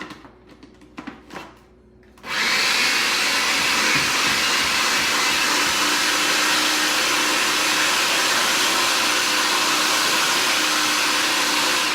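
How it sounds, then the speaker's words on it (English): A blender whirs on loudly after a few quiet seconds of faint handling sounds, then runs continuously, blending cauliflower rice into a steady high roar. "we're gonna blend this up and we're gonna dish it out"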